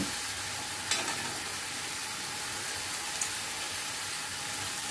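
Spices frying in oil in a pan over high heat and being stirred constantly, a steady dense sizzle with a couple of faint scraping knocks, close up and without talk.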